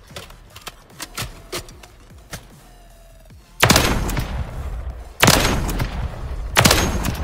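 Gunfire in Call of Duty Modern Warfare 3 during a Search and Destroy match: a run of sharp cracks in the opening seconds, then two sustained loud blasts of weapon fire. No one speaks.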